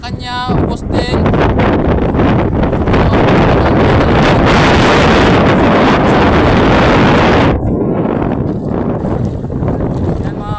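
Strong wind at sea buffets the microphone from a small boat, a loud, continuous roaring gust with water and wave noise underneath, easing briefly near the end before picking up again.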